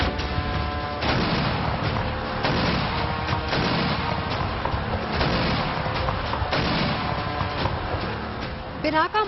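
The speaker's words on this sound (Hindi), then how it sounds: "Pinaka multi barrel rocket launcher से ताबड़तोड़ बरसते रॉकेट, तोप और टैंकों से अंधाधुंध बरसते गोले" Pinaka multi-barrel rocket launchers firing alongside artillery guns and tanks during an Indian Army live-fire exercise, a dense, continuous barrage of booms and blasts with repeated heavy impacts, loud and unbroken throughout.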